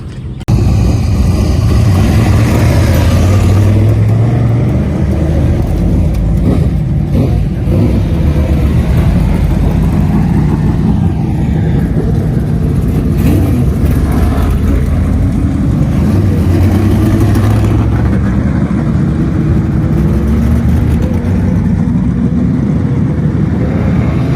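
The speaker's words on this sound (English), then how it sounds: "late models, Anthony Slaney and Ray Trimble, will lead us down to that chalk stripe in turn number 4 for 20 laps of green flag racing" Late model race cars at a dirt oval speedway, engines roaring loudly and continuously as the pack rolls and accelerates, pitch rising and falling as cars pass.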